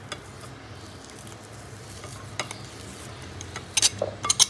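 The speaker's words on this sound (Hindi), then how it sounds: "तो अब आलू को हम आटे के साथ अच्छी तरीके से जो है मिक्स" Mashed potatoes being stirred into a liquid flour batter for aloo paratha make a soft, continuous wet swishing, with a few sharp utensil clinks against the bowl near the end, no speech.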